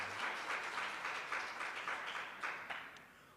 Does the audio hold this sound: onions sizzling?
no